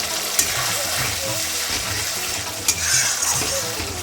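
A pan of steamed egg curry in mustard sauce is stirred and scraped, with a continuous wet, bubbling hiss and a couple of sharper spoon clinks, close and steady.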